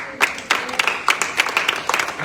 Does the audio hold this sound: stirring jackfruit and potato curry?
no